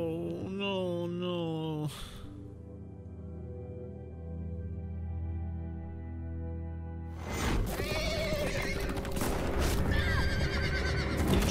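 A horse whinnies loudly in The Walking Dead: The Final Season video game, cut off by an abrupt sharp blast, then a quieter drone before harsh, loud noise returns.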